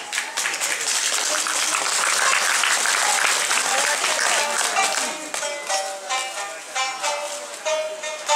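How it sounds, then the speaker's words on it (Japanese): Audience at an Awa Odori dance performance in Tokushima gives a long burst of warm applause, many hands clapping densely, then thinning out as scattered cheers and voices emerge. "皆さんぜひとも温かい声援をお送りください"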